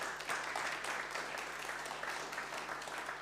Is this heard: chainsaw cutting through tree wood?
no